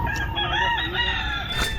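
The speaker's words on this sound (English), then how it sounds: "Chicken's going crazy right now." Several chickens and a rooster crow and cluck loudly and continuously, overlapping calls filling the scene at close range with no talk.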